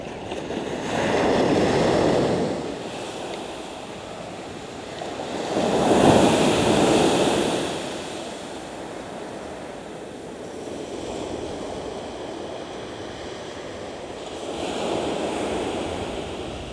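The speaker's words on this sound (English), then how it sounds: "This is West Beach in West Bay." Waves wash onto West Beach at West Bay, Dorset, in slow surges of surf every few seconds under constant wind noise on the microphone, with no voices.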